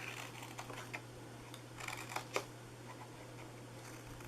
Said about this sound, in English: Cut down here, cut up this side.